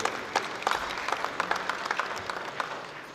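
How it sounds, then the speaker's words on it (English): Applause from the audience at a public sector audit awards ceremony, a sustained round of many people clapping with crisp individual claps audible throughout, steady and fairly close. "A round of applause for them."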